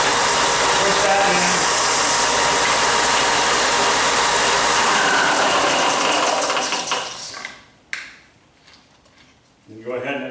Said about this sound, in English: all you have to do is turn on your sander, push